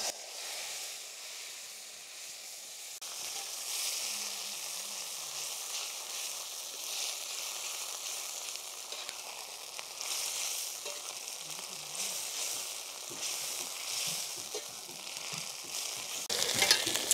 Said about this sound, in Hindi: तेल हमारा गर्म है तड़का हमारा तड़क जाएगा तो इसी में हम डाल देंगे पालक